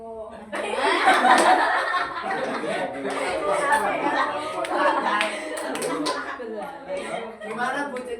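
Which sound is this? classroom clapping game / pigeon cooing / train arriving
classroom clapping game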